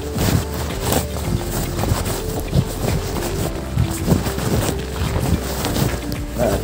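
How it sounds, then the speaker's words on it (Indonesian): A diesel engine pumping water into a village swimming pool at Jurug, Boyolali, runs with a steady low throb and rhythmic knocking, outdoors with wind buffeting the microphone. "kami sementara menggunakan mesin diesel dulu untuk menyuplai air ke kolam renang"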